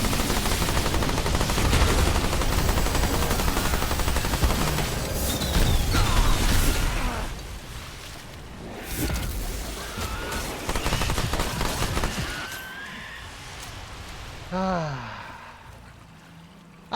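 Rapid automatic SMG fire from the Remnant 2 video game, dense bursts of gunfire dominating the first half, then sparser shots with softer in-game effects toward the end.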